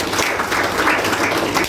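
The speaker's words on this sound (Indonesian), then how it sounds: "Kasih tepuk tangan dulu buat Tuhan" Church congregation at a Sunday service in Bekasi applauds, a loud, dense, continuous roar of clapping filling a large room, with no one speaking.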